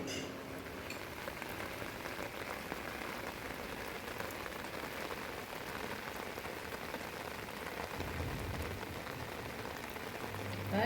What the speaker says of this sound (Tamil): டீ நல்லா கொதிக்குது